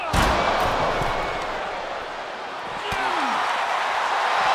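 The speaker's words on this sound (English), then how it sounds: "you hear this capacity crowd following you on that journey" A capacity arena crowd in WWE 2K24 during a Cody Rhodes and Roman Reigns match, a loud sustained roar that dips slightly and swells again, with a thud near the start.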